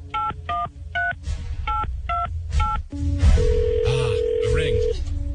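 A rapid series of telephone keypad tones beeps out in quick bursts, followed by a steady ringing tone on the line, with voices talking over the latter half.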